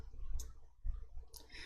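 Two quiet, sharp computer mouse clicks about a second apart during spreadsheet work, with faint room noise between them.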